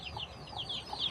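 Small chicken chicks peep in a roadside yard, a string of high, thin chirps repeating unevenly at close range over a steady low rumble of background noise.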